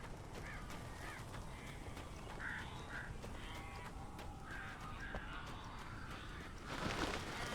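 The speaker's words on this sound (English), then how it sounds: "These birds are weird." Crow-like caws and duck-like quacks from birds in the Alan Wake video game, repeated through a steady background rumble and growing noisier near the end.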